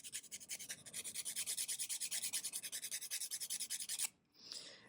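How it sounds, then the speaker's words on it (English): A 240-grit nail file rasps across fingernails in quick, even back-and-forth strokes, close and distinct for about four seconds, then one slower stroke after a short pause. "I'm going to use, this is 240 grit."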